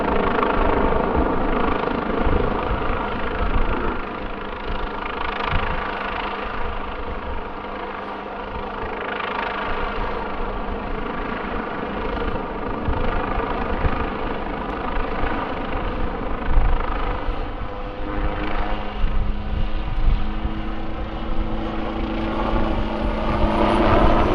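A helicopter hovers in front of the crowd at the Farnborough International Air Show 2024, its loud steady rotor and engine roar holding close and constant throughout with a slight rise and fall.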